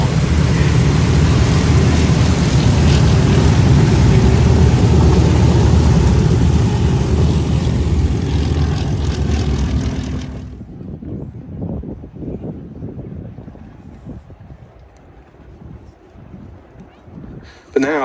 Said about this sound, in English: And last to roll, the RAF's final new biplane fighter,